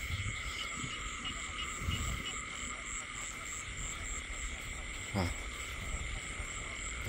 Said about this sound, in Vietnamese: Con nhái.